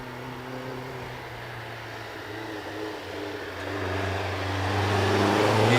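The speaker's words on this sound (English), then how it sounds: "We saw Jane in this car and commented on the engine sounding a bit fluffy" Vintage hill climb car at the VSCC Prescott hill climb, its engine running with a steady low drone that grows gradually louder toward the end, no talk over it.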